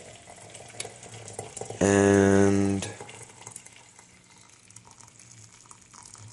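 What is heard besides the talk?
pouring water from kettle into teapot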